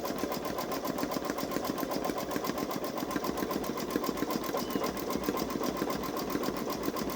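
A Babylock Solaris Vision embroidery machine stitches steadily, its fast needle clatter forming an even, continuous mechanical rhythm, close by and alone without any talk.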